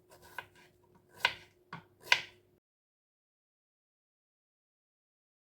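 Several crisp knife chops slice zucchini on a cutting board in an irregular rhythm, close and fairly quiet, followed by silence.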